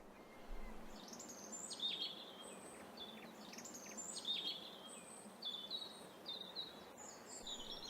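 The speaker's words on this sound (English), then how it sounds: "I used the Scatterer module in Fmod to implement extra bird singing sounds" Bright, chirpy bird songs repeat in short phrases over a soft, steady woodland ambience in a video game level, with several birds calling at moderate distance.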